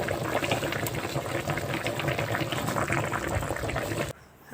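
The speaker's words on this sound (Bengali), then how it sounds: "ঢাকনা দিয়ে ঢেকে ঢেকে আমি তরকারিটা রান্না করে নেব" Cauliflower curry simmering in a covered pan, a dense steady bubbling and sizzling up close that cuts off abruptly just before the end.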